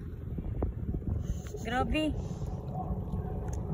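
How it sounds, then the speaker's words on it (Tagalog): Wind rushes and buffets against the microphone in a steady roar while a person speaks briefly over it. "Lakas na ng hangin."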